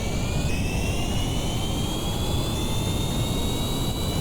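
An aircraft jet engine roars steadily during takeoff in the video game Kerbal Space Program, a dense rumble under a high whine that slowly climbs in pitch, with no voices.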